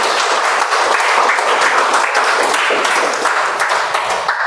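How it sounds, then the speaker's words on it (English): A Toastmasters meeting audience gives a loud, close round of applause for the Toastmaster of the day. Dense, sustained clapping continues evenly throughout, with no talking. "Can we have the big round of applause for Toastmaster Vinny?"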